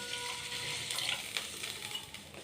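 Milk poured lightly into the same pan used to fry cashews and raisins for payasam, a soft, faint liquid splashing and trickling with small sizzly bursts, no one speaking.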